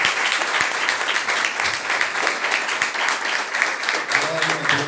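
Church congregation applauding during a worship service, a steady dense wash of clapping that fills the space throughout, with voices faintly underneath.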